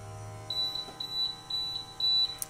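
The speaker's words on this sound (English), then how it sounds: "You can hear the alarm. This one doesn't have a vibrating alarm." A GMI Gasurveyor 541 gas detector goes into alarm during a bump test, sounding a steady run of shrill, high electronic beeps in short regular pulses, close and clear with no talk.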